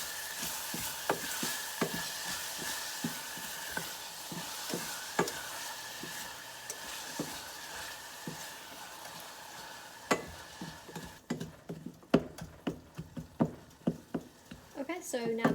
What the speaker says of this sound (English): I'm gonna stir this and let it soften for about 2 to 3 minutes